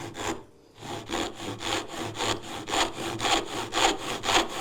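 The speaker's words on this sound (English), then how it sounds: "you keep going until you hear the difference in the pitch as you saw." Hand saw cutting a wooden dovetail joint, a close, loud, regular back-and-forth rasp with about ten even strokes after a brief pause at the start, no voices over it.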